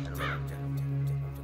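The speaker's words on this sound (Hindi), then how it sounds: "कौवे ने हमला कर दिया" Crow cawing during an attack, a short harsh call standing out over a steady low hum.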